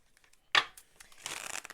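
A tarot card deck is handled: one sharp papery snap, then a quick crisp riffle of cards near the end, close and fairly quiet with no talk.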